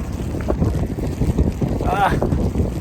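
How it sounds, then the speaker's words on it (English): Strong wind during a snow storm gusts and buffets against the microphone in a low rumbling rush, with a faint voice briefly audible. "Wind is so strong."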